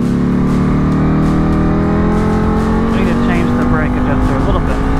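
A 2020 Ducati Superleggera motorcycle rolls down a racetrack pit exit, its engine a loud, steady drone with a rising tone throughout, heard close up over constant wind rush, with a voice talking over it.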